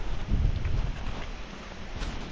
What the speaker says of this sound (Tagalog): Grabe ang pinaspas ng hangin dito sa barangay Alupay